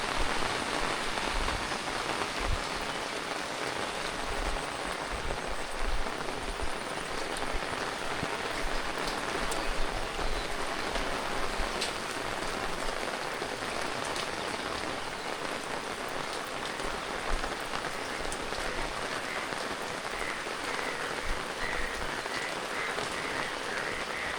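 Steady rain patters on a rooftop garden, an even wash of drops hitting leaves and surfaces throughout, with a few faint frog croaks mixed in.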